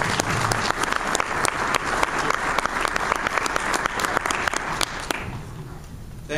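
Steady audience applause at a conference opening session welcoming a speaker, a dense wash of clapping from a large crowd with sharper individual claps, fading near the end.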